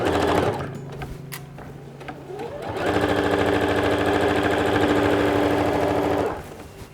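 A sewing machine stitching a dungarees seam, starting and stopping in short bursts before a long, steady, close run of rapid mechanical stitching that cuts off abruptly.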